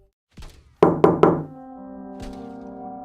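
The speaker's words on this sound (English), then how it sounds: "The knocking came again, this time from the front door." A few soft taps, then three sharp, heavy knocks on a wooden door in quick succession, followed by a lingering low hum.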